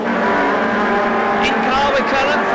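BTCC 2-litre touring cars racing at Copse corner, one car passing another; a loud, continuous engine roar with shifting harmonic tones and brief tyre noise, steady throughout with a commentator's voice mixed under it.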